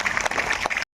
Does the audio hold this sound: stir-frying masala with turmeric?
no